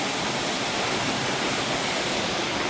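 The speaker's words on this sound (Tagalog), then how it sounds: "So, bali tatlong falls ang nandito." One of several waterfalls at Tenogtog Falls in Mayoyao, Ifugao roars in a dense, constant rush of falling water, loud and unbroken.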